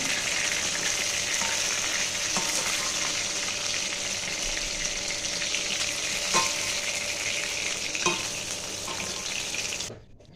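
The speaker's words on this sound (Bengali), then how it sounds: "তো দেখো মাছটা ভালো করে ভেজে নিয়েছি" Tilapia fish fries in hot oil in a pan, giving a loud, continuous sizzle and crackle with a few clinks of utensils, and the sound cuts off abruptly near the end.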